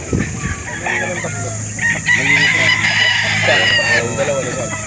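Roosters crow loudly and repeatedly at a chicken market in Calauan, Laguna, with clucking fowl and background voices mixed in.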